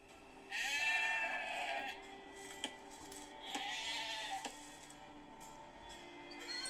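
Sheep bleating in the strategy game Age of Empires 2: Definitive Edition, several distinct bleats at moderate volume over a quiet game background, with a few short clicks in between.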